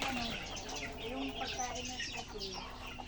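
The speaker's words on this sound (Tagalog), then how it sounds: "Welcome to the world of chickens." A flock of chickens clucks and murmurs nearby on a farm where ducks are also kept, overlapping soft clucks and chatter with a steady background hiss throughout.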